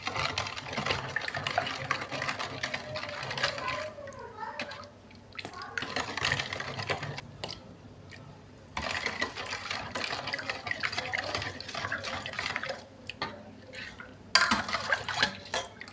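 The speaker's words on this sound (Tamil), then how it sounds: "இப்போ ரோஸ் மில்க்கு வந்து கொஞ்சம் ஊற்ற போகிறோம்." Rose milk poured into a watermelon and coconut drink and then stirred, giving a running liquid trickle with splashes and clinks in uneven stretches, close up, with a voice talking quietly at times.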